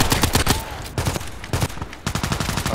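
AK-12 assault rifle fire in the shooter Contract Wars: loud, rapid automatic bursts of sharp cracks in several short strings with brief gaps, close and dominant throughout.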